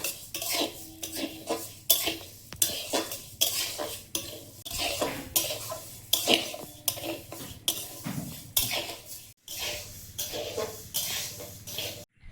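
Mung dal roasting in a pan on a strongly burning stove, a spatula scraping and clattering against the metal in quick repeated strokes under a faint dry sizzle, close and fairly loud.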